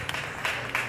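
Applause from a presentation audience: a short, steady wash of dense clapping at moderate distance.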